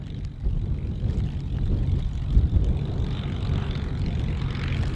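A Spitfire's propeller engine runs at a steady, close, droning rumble on the runway before takeoff, with a slight swell in intensity midway.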